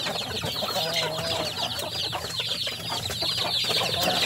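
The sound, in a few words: newly bought chicks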